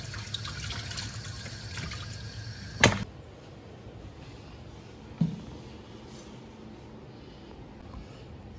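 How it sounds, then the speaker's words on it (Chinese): Tap water runs steadily while blanched beef tendon is rinsed in a kitchen, a continuous close splashing with two brief sharp knocks partway through and no talking. "牛筋焯水，咱们清洗一下"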